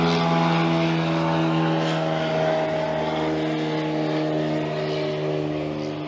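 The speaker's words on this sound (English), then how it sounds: "There's an airport right there. It's not a commercial airport, but still, there's a decent amount of traffic in and out of it regardless." A propeller airplane flies near a small non-commercial airport, its engine drone steady and loud with a harmonic buzz, holding close and constant before easing slightly at the end.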